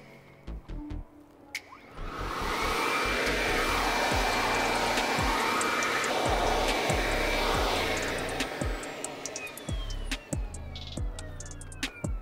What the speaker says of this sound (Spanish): vamos a ponerla en función de sopladora